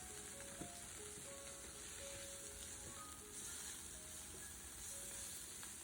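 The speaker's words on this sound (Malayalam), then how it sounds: "എന്നിട്ട് ഇതൊക്കെ ഒരു ഗോൾഡൻ ഷെയ്ഡ് ആവുന്ന വരെ നമുക്ക് നന്നായിട്ടൊന്ന് വഴറ്റിയെടുക്കണം" Crushed ginger and garlic sizzle steadily in hot oil in a pan, cooked toward golden for a beef fry. A constant, fairly quiet frying hiss runs without a break.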